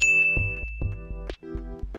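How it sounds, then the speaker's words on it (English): A bright notification ding rings out, followed by several quick chime-like tones in a short, clean, close sequence with nothing else behind them. "I can use it as a notification reminder sound effect."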